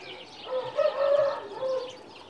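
Rare pigeons coo in soft, rounded calls, several short phrases close by against quiet room background, with no talking.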